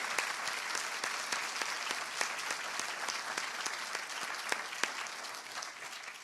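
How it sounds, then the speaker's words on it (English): Applause from a lecture audience at the 13th annual Sara Glasgow Cogan Lecture: steady, even clapping from many hands across the hall, with a few sharper individual claps standing out, moderately loud and continuous throughout. "I want to really give a round of applause to the entire family"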